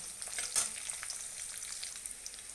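Grated coconut frying in oil in a pan, giving a steady close sizzle with one brief louder crackle near the start and no talk.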